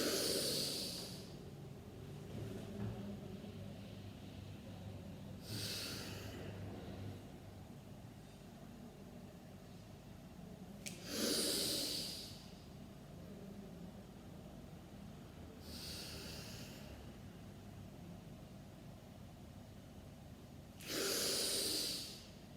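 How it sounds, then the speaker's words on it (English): Deep, full pranayama breaths drawn from the chest, a slow series of soft airy inhales and exhales recurring about every five seconds, close and fairly quiet with no talking. "Simple, deep, full breathing from your chest, not from your diaphragm, not from your abdomen, not from your throat"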